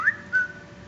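A phone notification plays a short two-note whistle, a quick rising chirp then a brief second tone, close and clear over a low steady hum.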